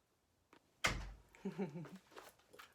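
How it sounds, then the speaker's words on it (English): A bedroom door is pushed shut with one sharp, close thud. Soft muffled voices and light rustling follow. "Can you close my door?"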